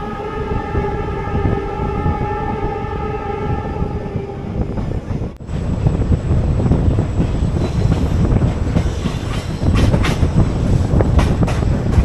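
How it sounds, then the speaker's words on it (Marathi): Train pulling into Raikabagh Palace Junction on a desert rail route in Rajasthan: a steady loud rumble of wheels and carriages, sustained tonal whine early on, then a sharp jolt and rattling clatter as the cars roll in. "आपली ट्रेन आता पोहोचली रायकाबाग पॅलेस जंक्शनला"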